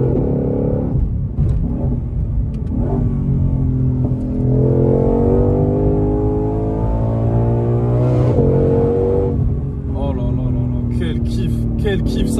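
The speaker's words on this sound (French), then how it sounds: "Et ça va chercher les tours d'une manière tellement jouissive." A Ford Mustang Shelby GT500 with around 770 horsepower revs hard on a circuit, its loud engine note climbing and rising in pitch through several sweeps, with a voice talking over much of it.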